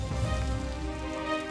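Rain falls steadily outdoors, a soft continuous patter and hiss at low level with no voices over it.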